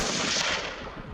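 A single rifle shot rings out during a mule deer hunt in Sonora, loud and close, its blast spreading into a rolling report that fades over about a second.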